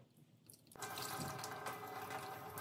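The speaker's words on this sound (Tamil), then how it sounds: "இதுக்கு தேவையான தண்ணி விடுறேன்" Water poured into a pot of crab rasam, a steady splashing gush that starts abruptly and continues close by, faint in level and without talk.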